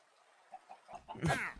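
Chickens in the video game Minecraft give a few short, faint clucks, then a louder burst of clucking near the end.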